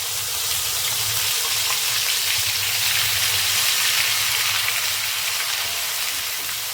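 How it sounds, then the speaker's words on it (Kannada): Ground masala paste for egg curry fries in oil with a steady, loud, hissing sizzle that carries on evenly throughout, with no voices over it. "ಅಲ್ಲಿವರೆಗೂ ಮಸಾಲೆನ ಚೆನ್ನಾಗಿ ಫ್ರೈ ಮಾಡ್ಕೋಬೇಕು"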